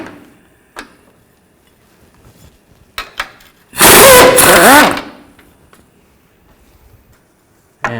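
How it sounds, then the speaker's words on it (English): An 18mm wrench and socket remove nuts and bolts on a 2000-2006 Chevy Tahoe auxiliary transmission cooler line. A few sparse metallic clicks come first, then one loud burst of whirring lasting about a second, then quiet. "I'm going to take these two nuts and bolts out, use an 18mm wrench and 18mm socket."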